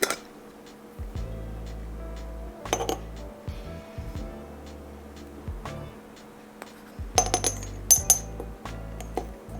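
Ground spices, smoked paprika, onion powder and cumin among them, rattled and clinking inside a glass jar in several bursts of shaking, close and fairly soft, with short pauses between them.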